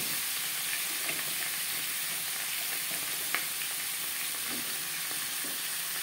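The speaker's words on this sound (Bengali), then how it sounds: "খিচুড়িটা ফোড়ন দেব সরষের তেলে" A khichuri tempering crackles in mustard oil for moong dal khichuri: a loud, continuous sizzle with a few faint clicks of stirring, and no talk.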